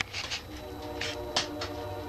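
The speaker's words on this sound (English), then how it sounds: "The train's coming through" A train rolls along tracks past an old shack, a steady low rumble with clattering wheel bursts repeating every fraction of a second, fairly close and continuous throughout.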